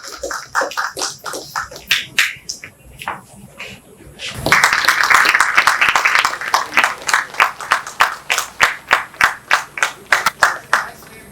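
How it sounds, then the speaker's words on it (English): Audience at a Rotary club inauguration clapping for a speaker: scattered claps build into a burst of full applause, then settle into rhythmic, evenly spaced clapping, with a voice briefly heard. "Let's give a big round of applause to Raju"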